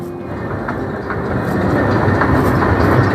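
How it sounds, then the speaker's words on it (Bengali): A small amusement park ride train at Ullash Park in Khulna rolls steadily past, with a continuous close rumble and faint clickety-clack from its wheels that builds slightly louder over a few seconds. "এই যে ট্রেনে সবাই উঠতেছে মামনি এই যে ট্রেন"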